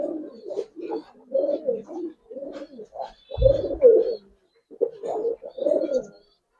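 Giribaz pigeons coo repeatedly in soft, low, burbling phrases with brief gaps between calls, fairly close and with no talking.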